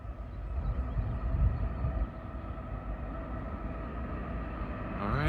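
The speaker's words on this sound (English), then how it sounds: "Here comes the train." A CN freight train passes outdoors with a steady, loud rumble that swells and eases, a sustained low roar running throughout.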